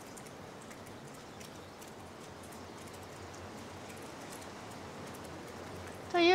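Rain falls outdoors at a seaside hot spring inn in Izu in winter, a steady soft patter and hiss throughout, ending in a brief louder bright sound.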